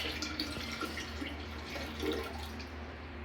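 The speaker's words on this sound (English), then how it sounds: "I throw this away, and then I take and empty this in the toilet." Liquid from a urine drainage bag is emptied into a toilet, a steady trickling and splashing of water heard close up in a bathroom, with no talk.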